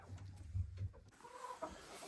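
A setting hen clucks quietly in a nesting box, a few soft, low throaty clucks in the first second followed by faint murmurs and rustling, all very close and hushed.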